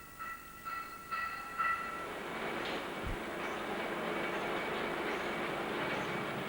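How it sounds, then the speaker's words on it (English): An oil train trundles along a railway through a tropical landscape, a steady, moderately distant rumble of wagons rolling past after a few brief tonal horn-like notes at the start. "these oil trains make a fascinating sight as they trundle their way through the tropical landscape"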